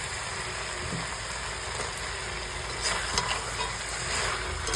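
Tomato going into a pan of kachki fish, sizzling steadily with spoon stirring scrapes, a continuous close frying hiss that grows slightly busier toward the end.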